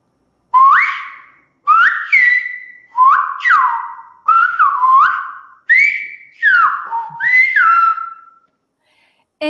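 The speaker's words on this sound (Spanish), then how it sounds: "La voy a silbar otra vez." Loud, clear whistled speech in Silbo Gomero, the whistled language of La Gomera, in several sliding, rising-and-falling phrases, each separated by short pauses, with no talking.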